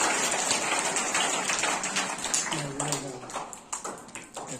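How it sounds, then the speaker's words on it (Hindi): Applause rises for a student at a tenth-grade school farewell ceremony, a dense crowd clapping steadily, then thinning into scattered claps while a voice speaks over it. "जोरदार ताली फिर से इनके उज्जवल भविष्य के लिए।"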